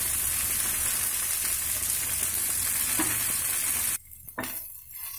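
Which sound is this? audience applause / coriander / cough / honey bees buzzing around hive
coriander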